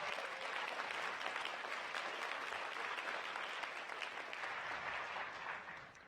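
Crowd applause at San Jose's 2017 State of the City event, steady, full clapping from a large audience that carries throughout and tapers off at the end.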